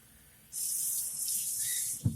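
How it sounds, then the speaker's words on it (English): A kitchen sink tap is opened and runs steadily for about a second and a half as a close, continuous rushing hiss, ending with a brief thump as it is shut off. "I'm going to run the water from the sink for a couple seconds just to flush any of the garbage out of the water."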